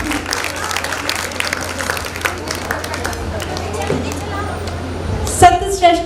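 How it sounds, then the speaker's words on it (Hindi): An audience claps in a sustained wave of dense applause after a dance-drama stage performance, with crowd noise mixed in and a few voices rising near the end. "तालियां तो बनती है।"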